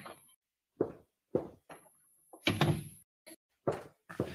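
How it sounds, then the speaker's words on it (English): A bullet-riddled door in a radio detective drama gives a series of sharp knocks and thumps, then a louder creak and clunk as it swings and shuts, crisp and close with clean silence between the hits. "I walked through my bullet-riddled door"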